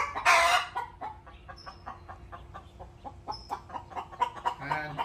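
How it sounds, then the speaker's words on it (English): Chickens cluck and squawk nearby in short, irregular bursts, with a sharp flurry of loud cackling near the start and scattered calls continuing after. "Chickens, shut up."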